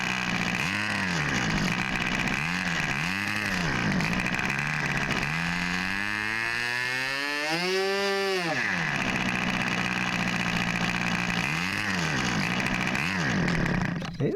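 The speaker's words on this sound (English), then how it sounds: "it sounds really flat as if the engine wants to die. That's a lean condition at idle." An MFA Yamamoto model engine running lean at idle drones with a flat, labouring buzz that repeatedly sags and recovers, briefly revving up midway before dropping back to a wavering, struggling idle, loud and close.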